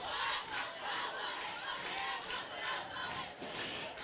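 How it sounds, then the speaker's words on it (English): Happy homecoming crowd at a Berea Bulldogs high school football game, cheering and yelling in a broad steady roar with swells, loud and close throughout. "Very happy crowd tonight."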